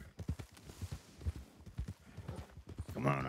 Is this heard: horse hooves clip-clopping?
yes